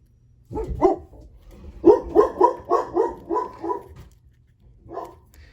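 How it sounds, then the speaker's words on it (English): A dog barks nearby: a couple of single barks, then a quick run of five or six, and one last bark after a pause. "Sorry for the dog barking."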